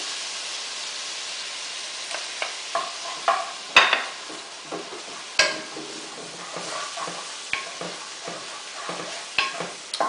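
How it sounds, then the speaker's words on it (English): Onions sizzle steadily in a hot frying pan while a spoon stirs them, with scattered scraping clicks and soft clatter over a continuous frying hiss, close and alone without talk. "To that, we're going to add our onions. I'm going to stir those in."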